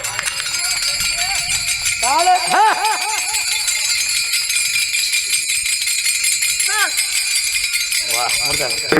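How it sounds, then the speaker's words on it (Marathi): Taal hand cymbals struck loudly at a kirtan, a bright metallic ringing clatter that carries on steadily, with a voice calling out in sliding tones over it. "जोरात टाळ वाजवा"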